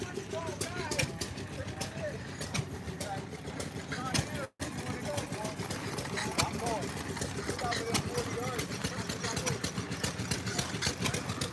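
Old tractors idle at an outdoor festival during the annual Helldorado Days in Tombstone, their engines a steady low rumble running continuously beneath crowd noise and talking.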